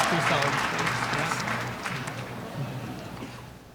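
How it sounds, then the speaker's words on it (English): An arena crowd at the 2025 U.S. Figure Skating Championships women's free skate in Wichita, Kansas applauds and roars approval, dense clapping that gradually fades, with an announcer's voice over it. "The crowd roars their approval here in Wichita, Kansas."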